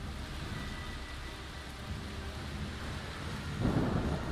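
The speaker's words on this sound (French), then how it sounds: "il pleut de plus en plus fort" Heavy rain in the video game A Plague Tale: Requiem pours steadily, a dense wash of noise that swells louder near the end, with low rumbling underneath.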